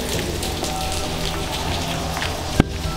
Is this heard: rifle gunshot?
no